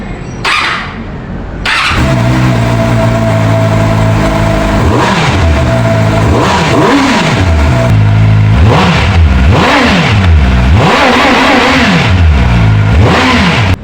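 Kove 450RR Pro motorcycle engine starting, then loud close revving in repeated rising and falling throttle blips over a steady idle, with no talking.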